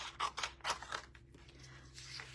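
Scissors cut through paper in a few quick, close snips and crisp slicing strokes, followed by faint rustling of the sheet.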